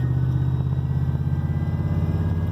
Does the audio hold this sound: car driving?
yes